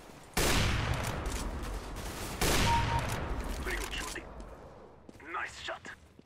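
Weapon fire in 3-round burst mode in Counter-Strike: Global Offensive deathmatch: two loud, sharp bursts about two seconds apart, each trailing off in a decaying rumble, followed by quieter scattered game sounds.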